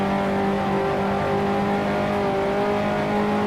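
Vintage 1960s Grand Prix race car engine in the racing simulator Grand Prix Legends, a loud sustained droning whine with steady tonal pitch that shifts slightly as the car holds speed, unbroken by talk.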